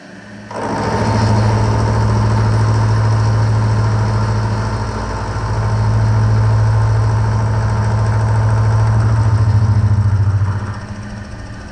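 A milling machine cuts metal to make lathe toolholders, giving a steady, close motor hum with a smooth cutting drone that dips once midway and rises again before stopping.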